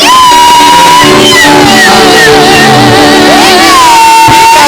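A church congregation at a Sunday service in Engarenai celebrates with loud, sustained ululation, high trilling voices rising and falling over crowd shouts and whoops, close and full throughout.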